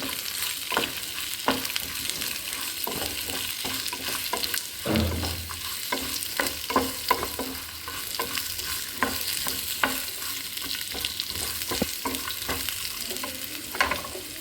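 Pieces of mutton head fry in hot oil with a steady bubbling sizzle, broken by frequent clicks and scrapes of stirring and one deeper thump, all close and continuous with no talking.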